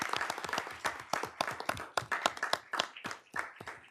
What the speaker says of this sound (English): give all these folks a round of applause for all the great work that they're doing